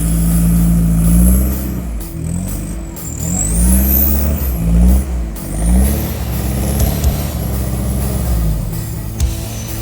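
A long wheelbase 4x4 reversing out of an off-road obstacle, its engine loud and close, revving up and down in a strained, wavering drone, with creaks and knocks from the vehicle working over rough ground.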